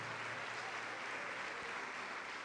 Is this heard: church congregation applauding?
yes